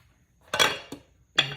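A metal lid set onto a pot of jarred tomatoes: two clattering metallic clanks, the first longer with a ringing tail, then a second sharp clink a moment later, close and moderately loud with no talking.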